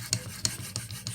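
Benchmade 13940 knife blade being drawn across a Venev OCB stone on an Edge Pro Apex clone sharpener, giving four evenly spaced, soft rasping strokes, close and fairly quiet with no voices.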